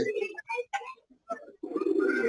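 Pigeons coo in short, low murmuring bursts with brief gaps, close by, among a large flock eating together.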